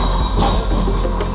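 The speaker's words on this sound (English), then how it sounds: "So they've got their trams here as well. Really lovely trams." A tram rolls past on George Street in Sydney, loud and close, with rumbling wheels and a brief metallic squeal over about a second and a half.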